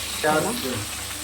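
Pomfret fish frying in a pan, a steady close sizzle that swells briefly near the start, with a voice speaking over it.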